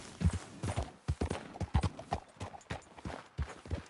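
Horse hooves clip-clopping in Red Dead Redemption 2, a steady series of sharp hoof strikes at a trotting pace, close and clear, with no talking.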